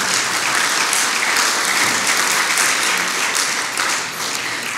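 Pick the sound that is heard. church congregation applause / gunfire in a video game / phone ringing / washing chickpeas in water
church congregation applause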